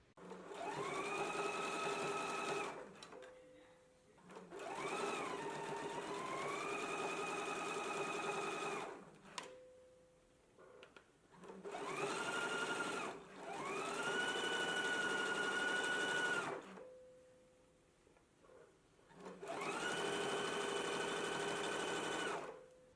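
A sewing machine understitches close to a placket seam in four long, steady whirring runs separated by short pauses, its motor pitch rising as each run speeds up, close and clear with no voices.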